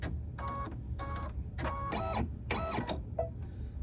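An embroidery sewing machine stitches a corner bookmark at high speed, giving five or six loud mechanical bursts of rapid needle clatter separated by brief pauses, heard close and alone.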